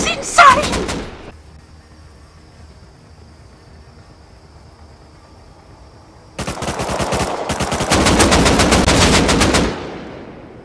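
Rust console game gunfire: a burst at the start, then long rapid automatic bursts from about six seconds on, loud and close, with a player's voice talking between shots.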